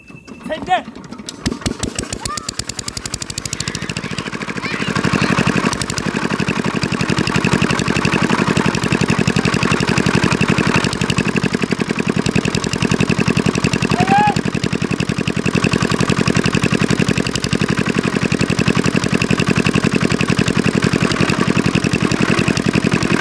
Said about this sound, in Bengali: দিয়ে আমি দড়ি ধরে স্টার্ট দিতে হবে মেশিনটা